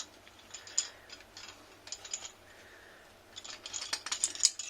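Parts of a Selvim LED ring light tripod being screwed together, giving close, quiet ratcheting and rattling clicks in short irregular bursts that pick up toward the end.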